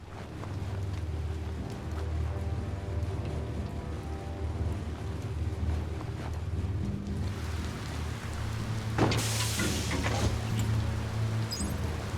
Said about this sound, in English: Did you hear thunder?